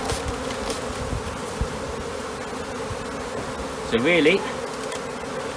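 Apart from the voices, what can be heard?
bees buzzing from a swarm in a hive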